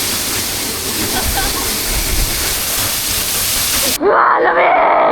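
Powerful jungle waterfall at Ambon Ambon Falls gives a loud, steady roar for about four seconds, then the roar gives way to excited voices and whooping.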